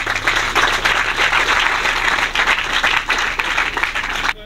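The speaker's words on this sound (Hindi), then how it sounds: "मैं आपसे गुजारिश करूंगा कि इनके लिए भरपूर तालियां बजाएं" At the inauguration of a children's home in Mardan, an audience claps heartily, a dense, loud burst of applause from many hands that runs steadily before cutting off abruptly near the end.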